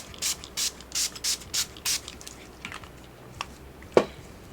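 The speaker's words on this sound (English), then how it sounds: "So what I do is I spray" Six short hissing bursts of water-resistant spray on the peeling interior of a vintage Gucci bag come in a quick, even rhythm, followed by faint handling clicks and one sharper tap.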